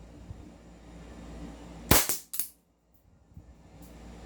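A Trex Hi-Capa 5.1 airsoft pistol fires one sharp, loud crack that echoes into a short rattling tail, over a quiet background hum.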